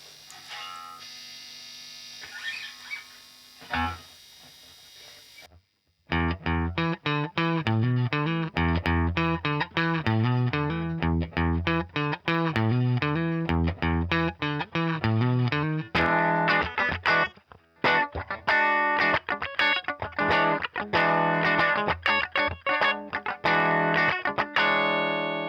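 Electric guitar through a Fender Princeton Reverb amplifier on the middle pickup position, a driven, strummed and picked passage with rhythmic chords and lively sustained notes, loud and close after a quieter opening.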